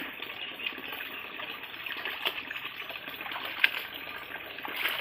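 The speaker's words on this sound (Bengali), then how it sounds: "জল চলে এসছে চলো ভিজিয়ে দিকে দেবে" Tap water runs steadily into a basin filling to soak washed dishes, a soft continuous gushing hiss with a few faint clinks, fairly quiet and without voices.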